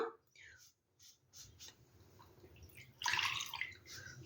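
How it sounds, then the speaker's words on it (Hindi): Water is poured little by little into maize flour in a bowl while making dough for makka ki roti, with soft trickles early on and a louder, splashy pour near the end, close up and quiet. "थोड़ा थोड़ा हम पानी डालेंगे।"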